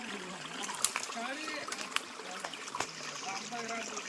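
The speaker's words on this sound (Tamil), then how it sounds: "இந்த இடத்துல தண்ணி வருது பாருங்கள்" Spring water trickles and splashes steadily close by, with soft irregular drips, while a person speaks over it.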